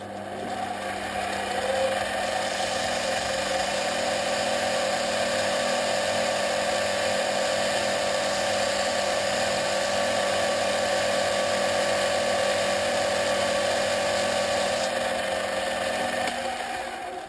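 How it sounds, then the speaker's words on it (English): Continuous high-pitched whine of a power sander working an etched aluminium blank, steady and close for the whole stretch, with no voices. "the piece is all now nicely sanded"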